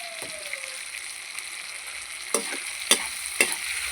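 Local chicken meat frying in plenty of oil with chilli and turmeric makes a steady, close sizzle, broken near the end by three sharp clinks of a utensil against the pan.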